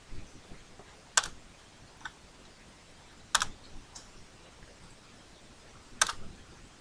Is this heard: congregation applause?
no